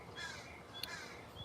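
A crow caws once, faint and distant, in an outdoor setting with light background noise.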